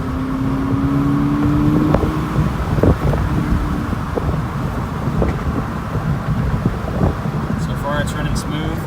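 A Volkswagen GTI driving on the road, heard from inside as a steady engine drone with wind and road rumble, a brief rev around a gear change, and someone talking over it.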